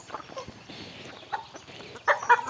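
Chickens cluck softly while being fed uncooked rice at a Thai temple yard, with scattered close pecking sounds and a couple of louder clucks near the end, no talking.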